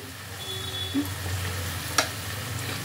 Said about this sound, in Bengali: কর্নফ্লাওয়ারের মিক্সচারটা আমি এর মধ্যে দিয়ে দিচ্ছি